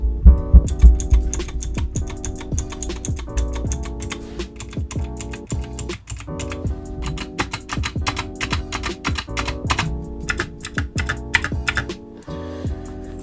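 Continuous rapid typing on a Kemove DK61 mechanical keyboard, a dense, close stream of clacky keystrokes with a brief pause near the end and no talking.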